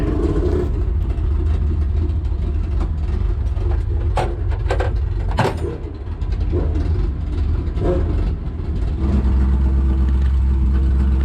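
A supercharged drag car's engine runs and revs loudly up close at the drag strip as the car is turned around between passes, with a heavy continuous rumble and a few sharp bursts in the middle.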